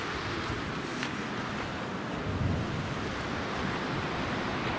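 Glacier snowmelt floodwater surges through river rapids in a steady, dense rushing roar, broadband and unbroken, heard up close with a few brief gusty swells.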